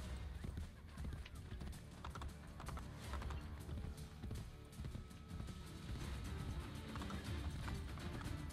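A horse gallops in the video game Assassin's Creed Brotherhood, with rapid, rhythmic clip-clop hoofbeats throughout, loud and close, with some clattering mixed in.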